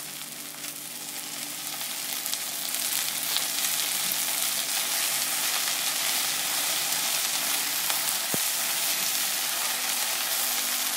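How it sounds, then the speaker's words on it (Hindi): Okra sizzles in a pan of hot ghee or oil with a steady, crackling fry. The sound builds louder after a couple of seconds and carries on evenly, close and unbroken. "यहाँ पर हमारी भिंडी फ्राई हो रही है"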